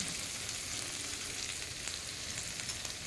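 Chicken roast frying in a pan gives a steady, dense sizzle and crackle, close and even throughout with no voices.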